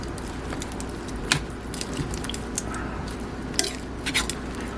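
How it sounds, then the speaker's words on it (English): Chicken in honey mustard sauce gets mixed in a pan, with wet stirring and squishing under a steady background and a few sharp clinks of a utensil against cookware, and no talking. "we're going to give this all a mix. Our sauce is coating everything."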